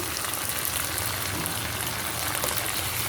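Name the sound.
water poured into a pan with mustard paste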